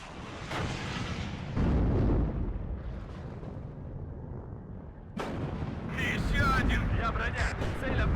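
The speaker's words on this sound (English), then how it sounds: "Okay, good artillery fire." Heavy artillery fire in the Cold War real-time strategy game WARNO, a series of loud booming blasts with rumbling decay and a sharp burst near the end, mixed with voice commentary.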